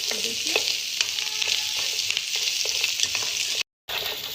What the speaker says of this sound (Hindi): ये देखिए हमारी मिर्चें भी अब इससे ही रोस्ट हो रही है, या ऐसे कहने के फ्राई हो रही है।